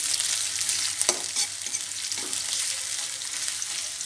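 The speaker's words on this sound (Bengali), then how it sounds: "রসুন কাঁচামরিচ দিয়ে পেঁয়াজটাকে খুব ভালো করে ভেজে নিব" Onion fries in oil with garlic and green chilies, giving a bright, continuous sizzle close by, broken by a few light clicks of stirring.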